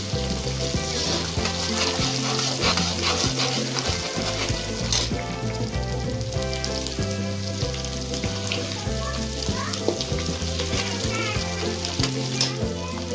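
Garlic and ginger sizzle in oil in a pan, a dense, steady crackle that goes on throughout, close up, with stirring mixed in and bright, regular musical tones underneath.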